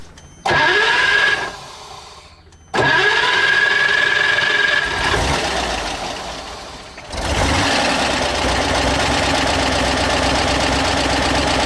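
A car engine cranks and catches twice, loud and close, then restarts and settles into a steady rumbling idle.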